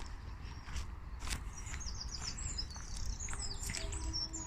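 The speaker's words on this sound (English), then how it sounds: "Lovely being down here in the morning, hearing the birds" Birds chirp and tweet faintly in the morning at an allotment beside a chicken run, scattered high calls carrying over a low outdoor rumble with no talk.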